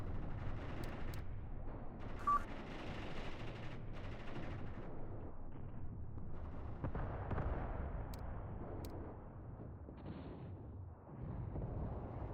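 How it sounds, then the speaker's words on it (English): Artillery cannons fire in the war game Mius Front, a dense rumbling battle soundscape of booming shots and distant gunfire running continuously without speech. "The cannons need to fire twice, and then we can move in."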